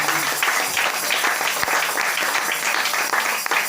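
A church congregation claps loudly and continuously, a thick, busy patter of many hands with scattered sharper claps and faint voices mixed underneath.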